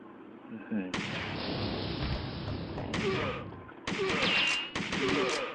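Gunfire in the arcade shooter Virtua Cop 2, bursts of dense, loud blasts and booms filling the soundscape with short gaps between them, while someone talks excitedly over the game.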